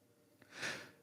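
A single sneeze during a talk show: a small catch of breath, then one short breathy burst, fairly faint and alone.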